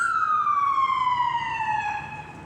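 A single emergency vehicle siren wail sweeping slowly downward in pitch, loud and close, then fading slightly as it passes, with faint road rumble beneath.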